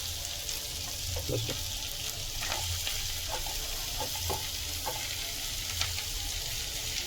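Tomatoes added to fried onions for a home-style chicken curry, a low steady sizzle with scattered stirring scrapes and taps, quiet, with no talk.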